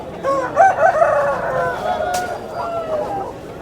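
A rooster crows with a drawn-out call, surrounded by Gokavaram market's overlapping chatter and a brief sharp noise partway through.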